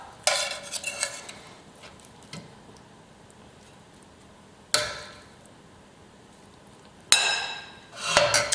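Food being spooned onto greens, a few separate bursts of scraping and clinking from a spoon against a dish, close by, with quiet pauses between them.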